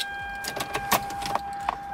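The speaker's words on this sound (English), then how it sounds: "We're gonna put the key in." A car key slides into the ignition of a Celica GT-S, with several close metallic clicks and a jingle of keys over a steady electronic chime tone.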